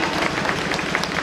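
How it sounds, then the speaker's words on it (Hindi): Steady dense clapping from an audience at a dance group's stage show, a brief burst of continuous applause from a crowd with no voices standing out. "तालियां बजाओ। तालियां तालियां।"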